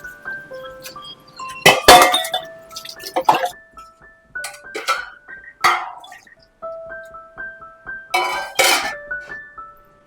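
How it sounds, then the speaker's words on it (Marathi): Dishes being washed by hand in a home kitchen: scattered sharp clinks and ringing knocks of utensils against each other, with bursts of splashing, dripping water between them, close and fairly loud. "आता मी भांडी घासते"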